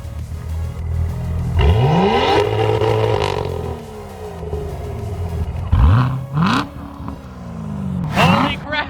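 A Corvette Z06 engine revs hard in repeated bursts, rising and falling pitch sweeps close by, with loud exhaust roar between throttle blips.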